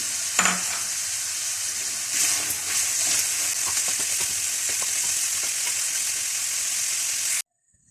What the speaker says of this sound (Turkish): Evet, soğanımızı çekiyoruz.